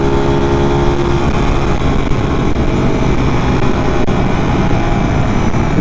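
A Suzuki Raider 150 motorcycle engine runs steadily at idle, a loud, close, continuous low rumble that holds even throughout.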